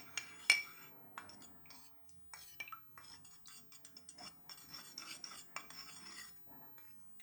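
A spoon stirs a baking soda solution for a soil test, giving light clinks and scrapes against the container in an irregular rhythm. One sharp tap stands out near the start, and the sounds stay fairly quiet and close, with no talking.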